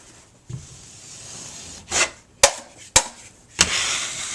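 A drywall knife wipes joint compound over paper tape on a patched wall seam, giving several short, distinct scraping strokes at uneven intervals with quiet pauses between them.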